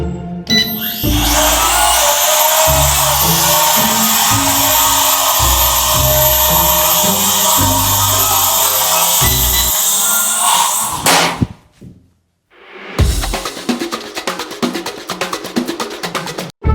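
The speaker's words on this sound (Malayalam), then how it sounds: "അടുത്തായിട്ട് നമ്മൾ ഡ്രോൺ ആണ് ടെസ്റ്റ് ചെയ്യാൻ പോകുന്നത്." A small toy drone runs its motors close by, a loud, continuous high whine that holds for about eleven seconds. It then cuts out, and a rougher buzz starts up again after a short pause.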